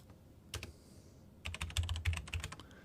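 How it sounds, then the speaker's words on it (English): Quick bursts of keystrokes on a computer keyboard as a password is typed, a few isolated clicks followed by a denser run of close, crisp taps with no talking. "So I've just put in a password that I'll remember."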